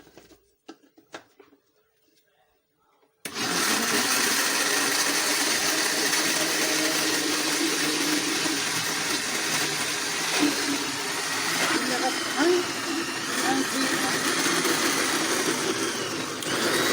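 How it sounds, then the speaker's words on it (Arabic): An electric mixer blends boiled potatoes with milk for a soft brioche dough. A few faint taps come first, then a loud, steady whir kicks in and keeps running without a break. "دابا غندوزو في الميكسور"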